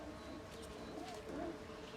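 Red Cheena pigeons bred from a single pair coo softly in a loft, their low, rolling calls faint and repeated beneath a steady background hum.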